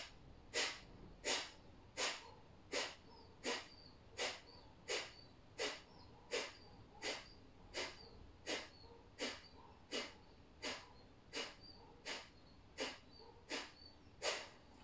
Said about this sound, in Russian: Капалабхати раз в секунду.